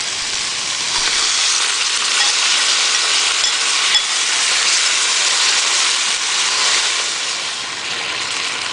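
Sauce poured into a hot wok of shrimp stir fry with peppers sizzles loudly and steadily, a bright continuous hiss that holds for several seconds with no talking.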